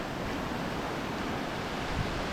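Surf washes onto the shore at 100 Steps Beach in Trinidad, a broad, continuous roar of waves with some wind rumble, close and steady throughout.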